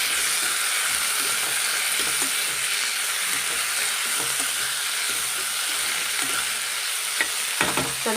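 Chopped tomatoes sauté in a pan for an eggplant curry, giving a loud, constant close-up sizzle with occasional scraping stirs and light taps of a utensil.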